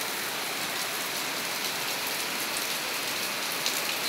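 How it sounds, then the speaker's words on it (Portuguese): Heavy rain pours down steadily, a dense, even hiss of drops with no pauses and no voices. "Voltou a chover forte."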